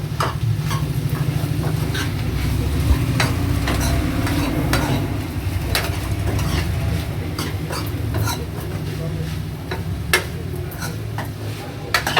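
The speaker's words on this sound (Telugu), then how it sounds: "కారం వేసుకున్నాక మళ్ళీ ఇంకోసారి ఒకసారి కలుపుకుందాం" Curry being stirred in a pan after chili powder goes in, giving a steady sizzling fry with repeated scraping and tapping strokes of a spoon throughout, close and fairly loud.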